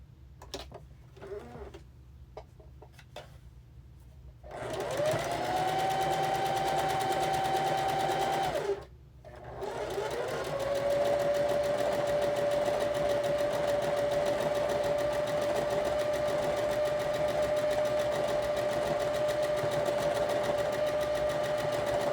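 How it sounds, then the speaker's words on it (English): A sewing machine stitches the top onto a Christmas quilt block, running steadily and close with a brief pause before resuming a long, even whir. "we're going to sew the top on"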